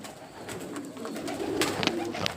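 Pigeons of teddy and kamaggar breeds at a loft give soft, low cooing under a steady background hiss, with a few brief sharper chirps and flutters near the end.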